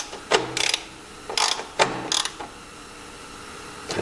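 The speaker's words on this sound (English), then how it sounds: "So now all that we need to do is put the bolts in up on the top." Top bolts going into a Toro snowblower that had sat unused for five years make a run of close metallic ratcheting clicks. Short bursts come in uneven clusters before quiet, with no talk over them.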